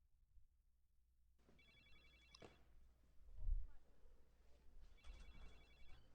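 A telephone ringing in a crime drama scene, two short electronic ring bursts spaced a few seconds apart, faint beneath a low rumble and a dull thud.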